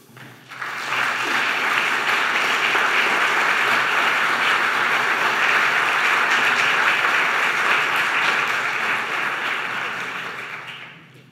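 A conference audience at a development forum on security and democracy applauds to welcome a speaker, a steady, dense roar of clapping that swells quickly, holds for about ten seconds, then fades.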